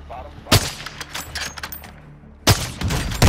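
Gunfire in a shooter video game: two loud, close bursts of shots separated by a stretch of scattered distant firing, with faint voices underneath.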